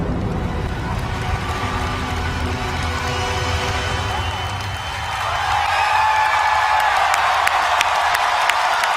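Crowd at a Star Wars Celebration panel in Orlando applauds and cheers, a steady wash of clapping that swells louder in the second half, with scattered whoops over the dense noise.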